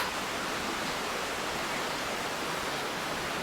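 A river flowing beside a resort in Janda Baik: a continuous, even rushing hiss of moving water at moderate level, unbroken and with no voices.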